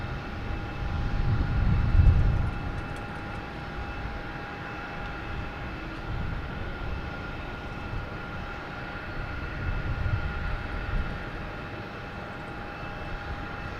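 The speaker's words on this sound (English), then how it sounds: "we have British Airways 777 coming in from London Heathrow. Just up to touchdown" A British Airways Boeing 777 landing at Boston Logan Airport sends a steady, moderately distant engine roar that swells and eases as it passes, with no talk.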